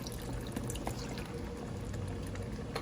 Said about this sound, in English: And then I'm going to add in some unsalted beef broth.